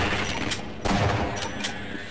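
An MP5 submachine gun fires in Half-Life, loosing several short, sharp bursts of rapid shots close up, with a heavier volley in the middle.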